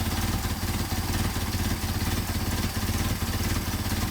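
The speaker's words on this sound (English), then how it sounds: "You can hear the engine falter" A Mercedes 190SL engine fitted with Solex 44PHH carburetors idles close by, a steady, even pulsing rumble with no voices.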